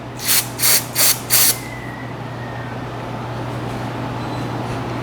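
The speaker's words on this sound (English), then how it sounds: "just use a little bit of brake cleaner just to remove any dust" Four quick, loud bursts of brake cleaner spray onto front brake parts of a Mercedes-Benz, followed by a faint lingering hiss over a steady low hum.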